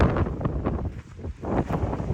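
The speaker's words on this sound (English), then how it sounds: "It is extraordinarily windy today." Strong gusts buffet the microphone on an exposed mountain trail at Three Fingered Jack as a storm moves in, a loud rushing roar that swells and dips unevenly, briefly easing before surging again, with no talking.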